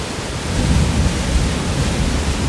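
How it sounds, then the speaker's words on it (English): Thunder rumbles low and continuous inside a typhoon eyewall at Baler in the Philippines, blended into a loud, roaring wash of wind and rain with no talk. "that's thunder in the eyewall, thunder"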